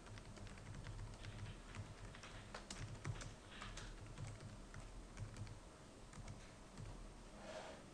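Soft, steady typing on a computer keyboard while writing three.js code, a quiet run of key taps with a few louder clicks over a low background hum.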